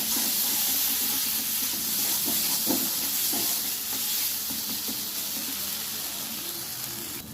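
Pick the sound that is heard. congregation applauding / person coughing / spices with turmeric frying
spices with turmeric frying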